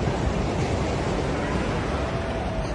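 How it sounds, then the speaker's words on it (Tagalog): Strong surf pounds the shore at Entalula Island in El Nido, Palawan, a steady, loud wash of breaking waves filling the air continuously without letup. "Grabe, lakas ng alon."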